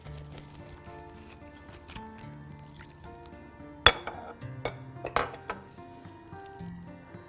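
Milk going into a bowl of cinnamon mocha cake batter, with clinks of a spoon or utensil against the bowl, soft liquid squelches and a sharp knock partway through, all close by and fairly quiet, over faint background music.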